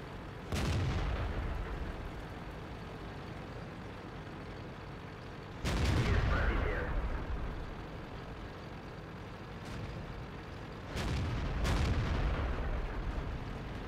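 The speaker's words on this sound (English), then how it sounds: "Now I'm keeping firing at the KV-3 here." Tank cannon shots ring out in World of Tanks while firing at a KV-3: four heavy booms spaced several seconds apart, each with a rumbling tail over a steady engine drone.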